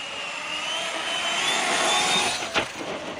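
A HoBao MTX RC truck's electric motor whines loud and steady as the truck turns, holding a high pitch and ending with a brief thump near the close.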